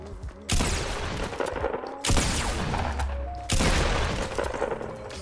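Fortnite Battle Royale gunfire, three loud bursts of weapon shots close by with booming impacts, separated by brief gaps and no talking.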